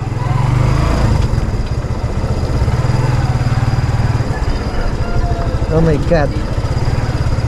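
A motorcycle engine runs steadily while being parked, a loud close putter that continues throughout, with a person briefly exclaiming over it.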